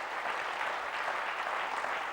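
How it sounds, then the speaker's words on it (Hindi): A lecture audience gives a steady round of applause, a dense even patter of many hands clapping for about two seconds, with no speech over it. "अब तालियां तो बजा लीजिए उनके लिए"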